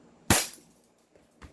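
A single sharp, loud crack from an upgraded Staccato 2011 airsoft pistol firing one shot, close by, followed by a fainter click and a small thud.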